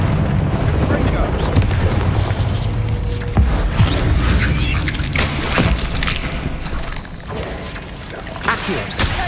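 The Confringo spell explodes in Hogwarts Legacy amid continuous loud combat noise with booms and crashes, and a voice is heard through the action.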